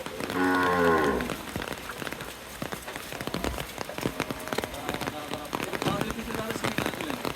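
A cow lets out one long, loud moo at the start at a cattle market, followed by steady patter like rain and indistinct voices in the background.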